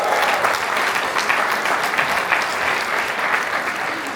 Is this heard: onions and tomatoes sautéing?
no